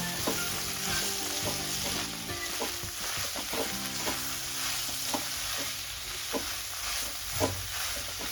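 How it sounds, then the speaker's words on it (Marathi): Ground masala paste sizzles in a pan with sprouted moth beans (matki), a steady frying hiss broken by repeated scraping stir strokes, close and moderately loud with no voices. "जे वाटण केलंय ते आपण टाकायचं यामध्ये आणि पुन्हा परतून घ्यायचं आपल्याला"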